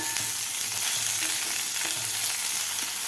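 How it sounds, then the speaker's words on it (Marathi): Pieces of jackfruit fry in hot oil for a Vidarbha-style jackfruit vegetable dish, giving a steady, close sizzle with occasional stirring scrapes, and no voices. "तर व्यवस्थित आपल्याला हे फणस फ्राय करून घ्यायचं आहे तेलामध्ये."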